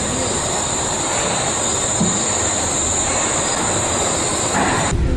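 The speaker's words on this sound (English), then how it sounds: "It's the oldest electrified suspension railroad in the world." The Wuppertal Schwebebahn, the oldest electrified suspended monorail, runs in a steady loud rumble with a high whine, heard from inside a moving car with no pauses or talk.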